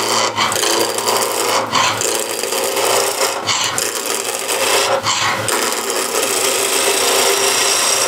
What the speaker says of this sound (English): I like to use skew to rough it down